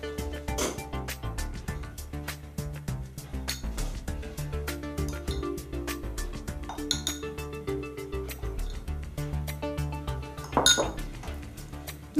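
Marinade ingredients for grilled pork loin are stirred in a bowl, with a utensil clinking and tapping rapidly against the dish in a steady, close, fairly quiet rhythm.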